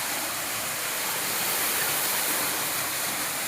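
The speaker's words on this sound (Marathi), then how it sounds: "CRI पंपचं 3 HP पंप आहे आणि ढगाळ वातावरणात सुद्धा पाणी मारतोय" A CRI 3 HP water pump pours water out in a loud, steady rush like a pipe filling a channel, unbroken and close, with no voices, in cloudy weather.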